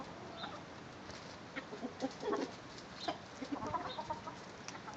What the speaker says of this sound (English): So these are silky chickens and Australorps, which are what we have out in the side of the barn.